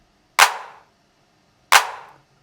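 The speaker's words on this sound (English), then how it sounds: "This clap has a little bit of reverb on the end of it" Two separate handclap samples from a beat mix, each a sharp crisp hit followed by a short reverb tail that fades out, with a brief silence between them.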